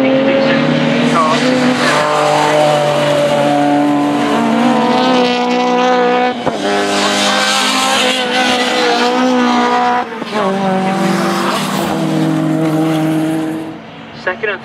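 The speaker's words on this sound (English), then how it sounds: "Second and third place cars coming out of the hairpin." Race cars, including a Peugeot 205 and Opel VTEC-class entries, accelerate out of a hairpin in a club race, engines revving hard through gear changes and passing close by in quick succession before fading at the end.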